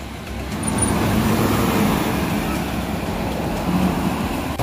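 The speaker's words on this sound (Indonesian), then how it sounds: "Oke, ini bus apa ini? Ini kayaknya, oh, Sari Mustika." A Sari Mustika intercity bus passes along a road, a broad rushing roar that swells within the first second and holds steady with traffic noise, fairly close and without talk.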